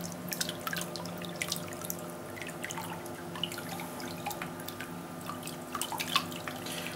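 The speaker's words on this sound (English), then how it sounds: "All you can hear at the moment is just the sloshing of the water." Water sloshes and drips gently in a reef aquarium tank driven by a quiet Blau Reefmotion DC pump, a soft, close, irregular trickle with scattered droplet plinks and no voices.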